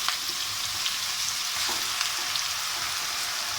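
Garlic, ginger and onion sizzle steadily in hot oil in a pan for daal maash, with a continuous close frying hiss and occasional light stirring.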